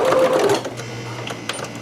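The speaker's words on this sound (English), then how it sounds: "do a little bit of a back stitch, and then go right on top of that line, that basting that I just did. And then back stitch that as well." A home sewing machine whirs steadily and close by as it back stitches over a basting line on a dress vent, its motor hum shifting pitch briefly as direction changes.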